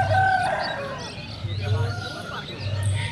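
A large, roughly year-and-a-half-old red rooster at a busy poultry market crows and clucks in drawn-out calls close by, while voices murmur in the background.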